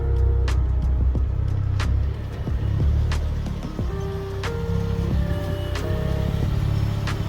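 A Mk2 Ford Focus ST225 drives on the road with a steady, droning engine and exhaust note heard from inside the cabin, rising and falling through gear changes over a constant road rumble.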